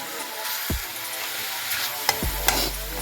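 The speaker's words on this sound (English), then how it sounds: "So we're just browning this some more." Shrimp, sausage and vegetables browning in a hot pan, giving a steady, dense sizzle close by, broken by a few brief knocks of a utensil against the pan.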